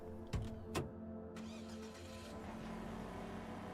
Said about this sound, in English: Let's see what it sounds like with the muffler on.